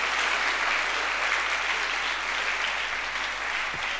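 A church congregation claps together in steady, dense applause, loud and sustained throughout with no voices standing out.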